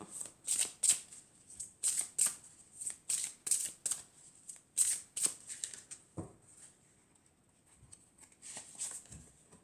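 Tarot cards being riffled and shuffled in quick, close, crisp bursts, followed by a few soft taps and slides as a card is drawn.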